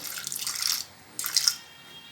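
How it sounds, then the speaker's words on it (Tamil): Water splashes into a pot in two short pours, the first longer, with a brief pause between them and no voices. "கொஞ்சமாக தண்ணி சேர்த்துக்கிறேன்."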